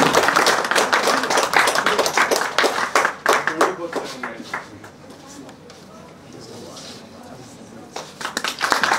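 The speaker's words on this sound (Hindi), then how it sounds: "पुरजोर तालियां हो" Audience applause at a hosted event at a women's college in Baramulla, brisk clapping that swells loudly then thins out and returns near the end, with talk over it.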